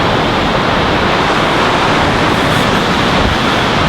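A dense, steady roar of falling water from a waterfall along a hiking trail near Portland, loud and unbroken throughout, with no voices.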